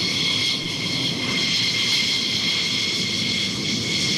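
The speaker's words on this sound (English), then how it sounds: "to get shots like this of the Israeli F-15s departing" Israeli F-15 jets departing an airfield during an air display, a steady loud roar of jet engines with broad rushing noise and a high whine, continuous throughout with no voices.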